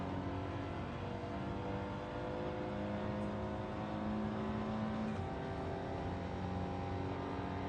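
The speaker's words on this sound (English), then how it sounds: "Blind Scotsman's got a fancy exhaust on his car." A video game car engine with a loud aftermarket exhaust drones steadily with a throaty, sustained exhaust note, holding a constant revving tone throughout without pauses.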